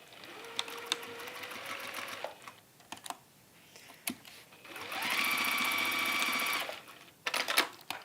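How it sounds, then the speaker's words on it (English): Close by, a sewing machine runs in two bursts across the edges of a glasses case, its motor whirring steadily, with clicks and handling knocks between the runs. "we're going to marry up those edges and sew across"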